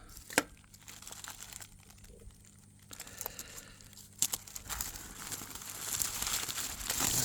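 A Damascus knife unwrapped from its wrapping close up, with soft crinkling and rustling of paper, a few sharp taps and handling knocks, and the crumpling growing busier toward the end.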